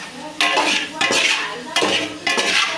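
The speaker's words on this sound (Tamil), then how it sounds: "இப்போ இதை மசாலாவில் போட்டு பரட்டி எடுத்துடலாம் நல்லா பரட்டிக்கலாம்" Boiled eggs being tossed in masala in a metal pan, with repeated loud scraping and clanking of a utensil against the pan in several quick strokes, close up.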